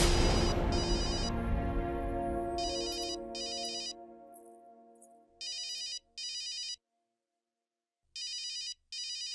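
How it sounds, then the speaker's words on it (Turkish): Phone ringing for an incoming call at a late hour in a Turkish-dubbed drama: after a fading musical sting, an electronic ringtone plays in repeated short bursts with silent gaps between them. "Seni bu saatte kim arıyor?"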